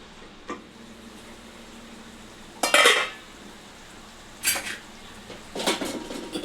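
Utensil stirring spinach and egg curry in a pan on the stove, giving a few separate bursts of scraping and clinking, each lasting under a second, at moderate loudness with no voices.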